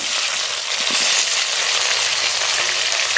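Chopped tomato sizzles among frying onions in a pan, a loud, even, dense hiss that fills the whole moment without pause or speech.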